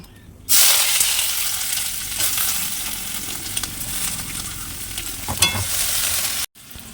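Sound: onion frying and being stirred in pan for ghugni

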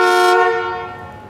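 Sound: VW bus horn honking

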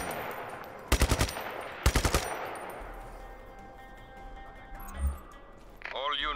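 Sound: gunfire from video game Just Cause 3

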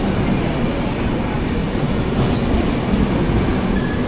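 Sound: passenger train running at speed, coaches swaying

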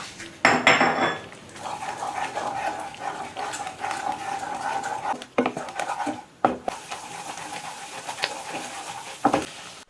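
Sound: stir-frying potatoes and bell peppers in a pan

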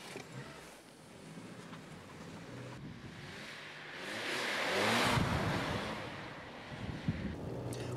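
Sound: car driving during a test drive

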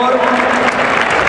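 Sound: crowd applauding at a bullfight

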